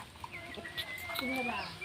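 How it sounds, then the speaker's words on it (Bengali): A kura bird (watercock), kept as a pet at home, gives a series of thin whistled, chirping calls with rising and falling notes, fairly close and clear over a low background hum. "এই গেল আমার কুড়া পাখি"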